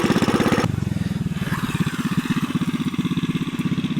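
A TrailMaster MB200 minibike engine chugs nearby with a rapid, even pulsing beat, loud and rough at first, then settling into a steady idle-like putter throughout.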